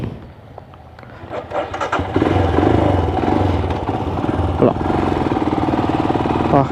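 A motorcycle engine cranks and starts after a couple of seconds, then settles into a loud, close, rough running clatter.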